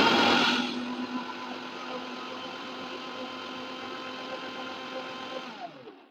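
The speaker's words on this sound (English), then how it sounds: "Now we'll mix it in a mixer grinder." A mixer grinder blending cold coffee whirs loud and steady after a brief harsher start, running evenly for several seconds before cutting off at the end.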